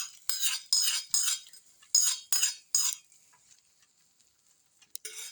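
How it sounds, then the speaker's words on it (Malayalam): A metal utensil stirs tempered mustard seeds into a mackerel fish curry in a pot, making a run of bright, scraping clinks in quick bursts before going quiet, with a last small clink near the end. "നമുക്ക് കടുക് വറുത്തത് ചെറുതായിട്ടൊന്ന് ചുറ്റിച്ചു കൊടുക്കാം."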